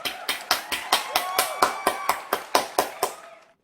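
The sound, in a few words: applause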